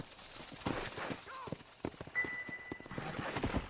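Hooves of a galloping horse in Red Dead Redemption thud in an uneven, quick rhythm at moderate distance, fairly quiet, with a faint tonal whine partway through and scattered sharp knocks.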